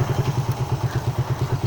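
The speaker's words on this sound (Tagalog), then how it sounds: "So, subukan natin yung isang motor. Yung sniper." Yamaha Sniper 150 motorcycle engine running close by at a steady idle, with a rapid even putter and light mechanical clatter.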